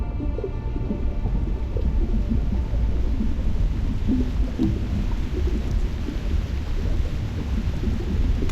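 Storm in the video game Reverse 1999, a deep continuous rumble of thunder beneath steady rain noise, loud and sustained throughout without speech.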